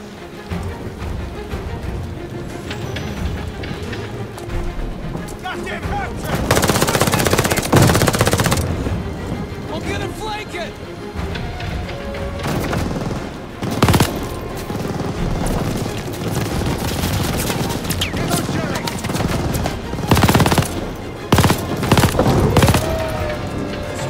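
A PPSh submachine gun fires in Call of Duty: Vanguard in long, loud automatic bursts with explosive booms and heavy battle noise, sustained and close throughout.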